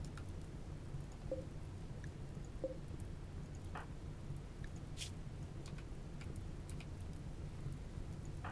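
Steady rain hiss with a low rumble in a colony-building video game, a few faint scattered clicks and taps, no voices.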